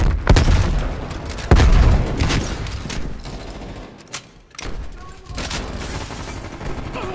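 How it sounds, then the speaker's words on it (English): In a video game firefight, a grenade blast and bursts of gunfire ring out loud and close, with repeated booms and rattling shots over a dense battle mix and brief radio-style voices. "We've fallen behind. Throwing grenade."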